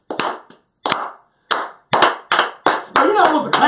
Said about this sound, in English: We do the slow clap into the fast clap.